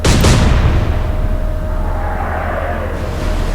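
A ship's gun fires in the Atlantic Fleet naval warfare game: one loud, close boom that rolls off into a long, fading rumble.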